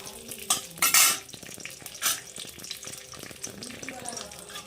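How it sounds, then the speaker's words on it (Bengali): Cashews, raisins and almonds fry in melted ghee in a pan, giving a soft sizzle with a few sharper scrapes and clinks of stirring, fairly close and without any talk. "এর মধ্যে একে একে আমি কাজু, তারপর কিশমিশ, তারপর আমন্ডটাও দিয়ে দেবো।"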